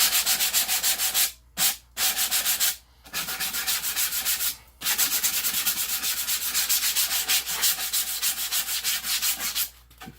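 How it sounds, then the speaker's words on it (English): Continuous hand sanding along the edges of a carved wooden sign, a steady close scratchy rubbing in repeated strokes with a few brief pauses between passes. "So I just lightly hit the edges to make them smooth and get all the little fringes off."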